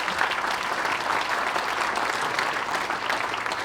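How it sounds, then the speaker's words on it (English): Sustained, dense applause from a crowd at a hockey awards and Hall of Fame dinner, even and full throughout with no pauses. "One more round of applause."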